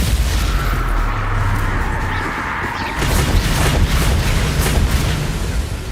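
Bombarda explosion spell cast in the video game Hogwarts Legacy, a loud rumbling blast followed by crackling debris and crashing noise, dense and continuous over several seconds amid game effects, no talk.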